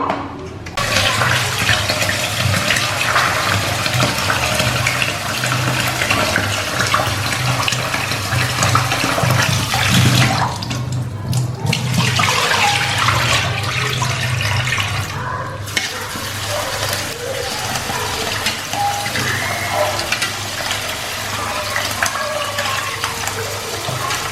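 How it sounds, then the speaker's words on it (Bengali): Rice being washed under running water from a tap, a steady loud rush of water with sloshing and swirling throughout, interrupted briefly by short changes in flow, close by with no talk. "তো এবার আমরা চালটা ধুয়ে নেব।"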